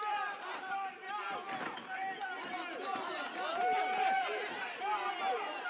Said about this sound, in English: Crowd really into this fight.